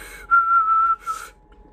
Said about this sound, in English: It's whistling.